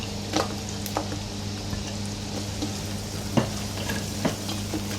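Pork fries in a pan with garlic and onion for sotanghon, making a continuous sizzle with a low hum and a few distinct scrapes and taps of the spatula.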